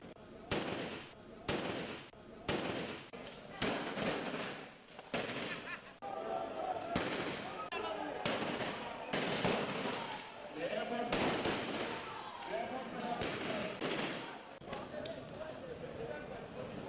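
Rapid bursts of gunfire crack out during a Nigerian Air Force simulated terrorist attack, loud, sharp reports repeating irregularly over a dense, noisy background with voices mixed in.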